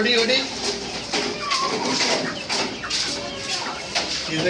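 Chickens cluck and squawk nearby while people converse loudly over a lively, noisy market background, with the birds being sold by weight.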